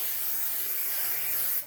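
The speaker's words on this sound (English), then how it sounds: "bring out the spray." Hair spray hisses from a can in one steady burst of about a second and a half, close and loud, then cuts off.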